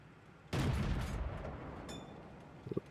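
A tank cannon fires once in World of Tanks: a loud, sharp boom with a rumbling tail that fades over a couple of seconds, followed by a few faint clicks.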